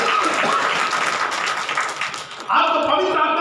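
A church congregation claps hands during a Hindi Bible study, a sustained burst of applause that fades and then gives way to tonal music after a few seconds.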